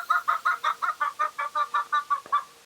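Chickens in a yard cluck in a steady, evenly spaced run of about a dozen short calls, close and fairly clear against a quiet background.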